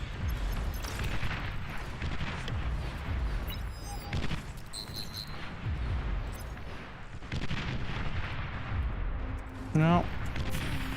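Artillery firing in the real-time strategy game Beyond All Reason, repeated deep booms and distant rumbling blasts scattered across a dense battle soundscape, with occasional electronic tones and a rising whistle near the end.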